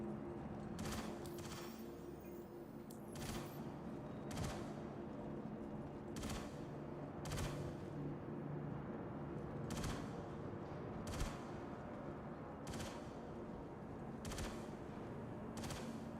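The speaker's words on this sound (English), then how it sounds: "They're shooting the ship." Gunfire aimed at a spaceship in the video game Star Citizen: a regular series of sharp, moderately distant shots, roughly one per second, over a steady low background hum.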